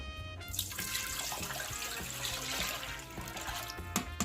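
Water pours steadily into a pan for a bain-marie in a home kitchen, a close continuous splashing stream that runs the whole time with a few light clinks near the end.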